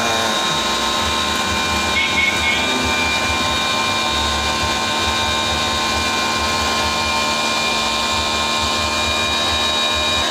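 A foam washer sprays a Maruti Suzuki Eeco car in a continuous loud, close hiss with a machine whine and a low rumble underneath, unbroken for the full length.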